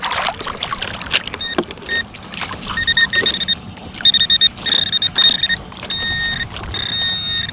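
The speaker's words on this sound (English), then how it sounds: "It's a coin beeping 19." A metal detector gives repeated electronic beeps in short bursts over a coin target buried in deep, sloppy muck, with splashing and handling noise underneath.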